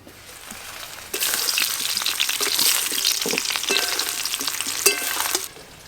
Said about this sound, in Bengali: এদিকে চুই ঝাল কাটতে কাটতে ওদিকে আলু মনে হয় ভাজা হয়ে গেল।